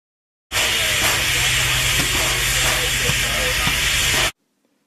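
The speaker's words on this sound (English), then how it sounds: "China Railways 8419 was built by the Datong Locomotive Works in Datong, China in 1989 and is the 8419th steam locomotive built by that factory" Loud, steady steam hissing from China Railways 8419, a 1989 Datong Locomotive Works steam locomotive, runs for about four seconds and then cuts off abruptly, with a low rumble beneath.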